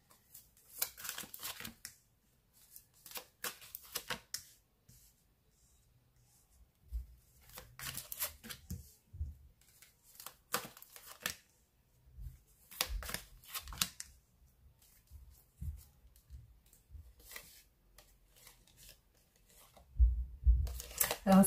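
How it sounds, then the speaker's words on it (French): Tarot cards being shuffled by hand close up, heard as repeated quick riffling and rustling bursts separated by short pauses, with a heavier burst of handling near the end. "je vais vous faire le tirage des tarots pour voir son état d'esprit encore"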